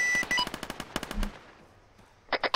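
Rapid bursts of gunfire from a military shooter video game, a string of sharp close shots in the first second and a half, then a short pause and a couple more quick bursts at the end.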